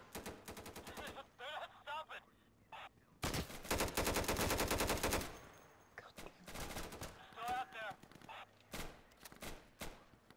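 M4A1 rifle fire in the shooter Insurgency on a hardcore Embassy outpost map comes in rapid automatic bursts, one long sustained string in the middle and shorter rattling volleys around it, loud and near, with a voice faintly underneath.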